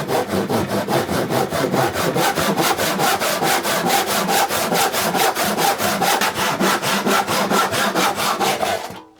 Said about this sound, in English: this sort of cut is often done with the roughest of saws